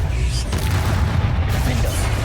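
Spell explosions from Bombarda and Confringo in Hogwarts Legacy land as a dense, loud rumbling boom that fills the whole moment, with no voices over it.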